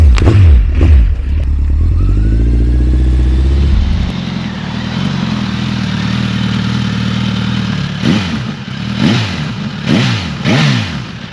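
A Suzuki GSX-S1000 GT Plus sport-touring motorcycle in glass black with panniers, its engine loud and close with a rising rev at the start, then a steady run and several sharp throttle blips near the end.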